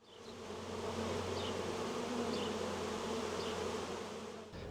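A steady, dense buzz of many honey bees, close and continuous, with no talking.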